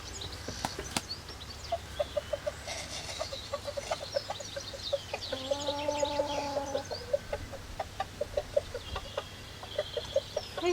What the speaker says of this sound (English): This is previously recorded from Hercules here, and it is the separated feeding call.